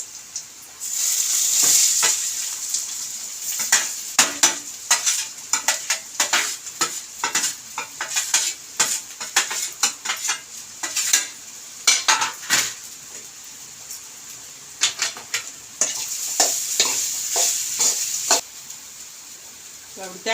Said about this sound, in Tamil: வாழைக்காய் வறுத்தாச்சு பொரிச்சாச்சு